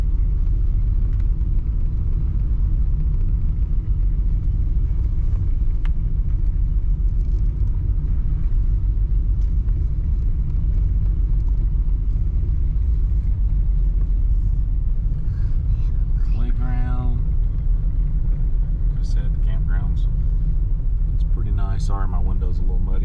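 A vehicle rolls slowly around a state park campground, with a continuous loud low engine and road rumble from inside the cab and brief voices near the end.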